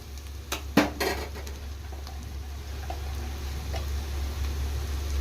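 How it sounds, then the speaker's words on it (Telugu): Onions frying in a pan for Nellore fish curry make a soft, steady sizzle, with a couple of sharp utensil clinks against the pan near the start, over a low background hum. "చూడండి, ఆనియన్ మగ్గుతుంది."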